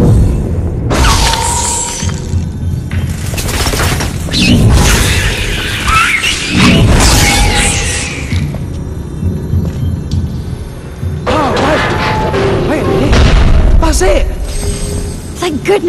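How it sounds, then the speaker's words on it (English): Explosions in the Harry Potter and the Deathly Hallows Part 2 video game, loud booming and shattering bursts with rumbling debris, mixed with game music and character voices. "Explosion!"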